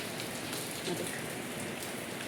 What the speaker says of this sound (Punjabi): ਦੇਖੋ ਕਿੰਨਾ ਸੋਹਣਾ ਮੌਸਮ ਬਾਰਿਸ਼ ਇੱਕਦਮ ਤੇਜ਼ ਆ ਗਈ ਹੈ